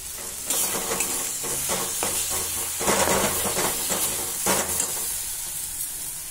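Filling for Moglai paratha sizzles in hot oil in a pan after chopped chili goes in, a steady loud frying hiss broken by several stirring scrapes and clatters, with no voices.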